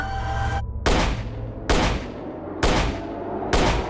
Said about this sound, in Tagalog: Apat na putok po.